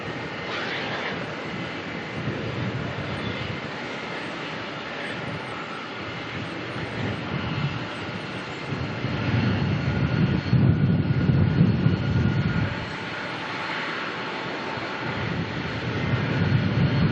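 SriLankan Airlines airliner taxiing out at Melbourne airport, a steady engine rumble and whine that holds throughout and swells louder near the middle and again at the end, with some wind buffeting.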